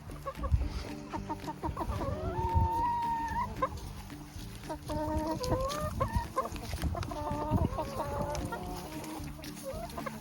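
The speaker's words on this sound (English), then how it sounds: "Hello, Mr. Beautiful Rooster." Several hens and a rooster cluck and squawk close by in bursts of repeated calls, mixed with rustling and shuffling sounds of a busy coop.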